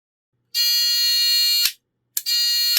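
A loud, shrill electronic beep from a continuity tester sounds twice: one long tone of about a second, a short gap, then a second tone starting.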